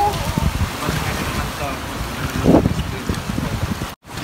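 Gusty wind rumbles against the microphone over the wash of waves at sea during island hopping, with a brief louder burst near the end before a short dropout.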